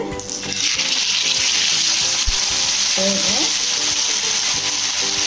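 Fish marinated in masala sizzles and spits in hot oil in a pan, a loud, steady frying hiss throughout with a short spoon scrape partway, no voices.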